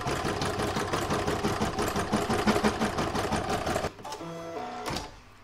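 A sewing machine stitches down a quilting round with a rapid, even mechanical chatter for about four seconds, then slows into a few separate clunks and stops, close and loud.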